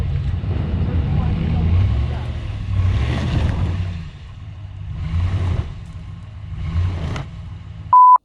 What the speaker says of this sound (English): I actually had to give the truck some throttle to get the tires to spin.